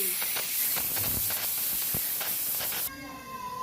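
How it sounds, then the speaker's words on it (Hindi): Steam hisses loudly and steadily from a pressure cooker being opened after cooking carrots for gajar ka halwa, a dense continuous rush that drops off abruptly near the end, leaving quieter residual hiss. "ये देखिए, हमने प्रेशर ओपन कर दिया है।"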